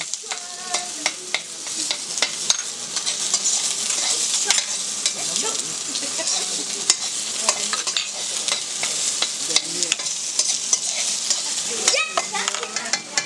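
Onion being stir-fried in a pan for minced pork with sweet Thai basil, a steady close sizzle broken by frequent scraping and clinking of a utensil against the pan, with no talking.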